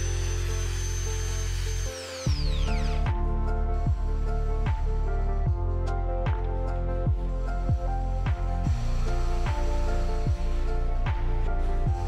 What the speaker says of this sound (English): Then, drill the mark using drill bit 8 mm.